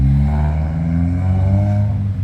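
A loud engine drone of a car close by, its pitch sliding as it passes and fades slightly toward the end.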